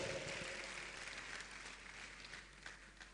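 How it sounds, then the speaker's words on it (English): Summit audience in Ogbomoso applauding their leadership, a dense, steady wash of clapping from a crowd that fades slightly as it goes on. "Please, a round of applause for our leadership, for staying with us, to listen to us."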